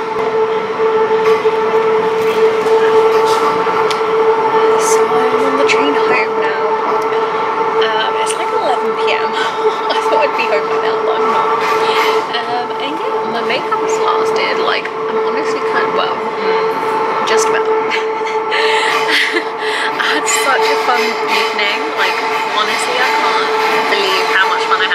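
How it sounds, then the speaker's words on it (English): Interior of a moving train: a loud, steady rumble of wheels and carriage with a sustained tonal hum and occasional clatters, while people talk over it throughout. "So, I am on the train."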